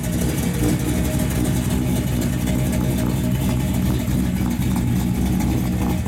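A 1962 Chevrolet Impala with a V8 and four-speed idles with a lumpy, thumping cam, a steady loud low rumble throughout with slight irregular lope and no talking.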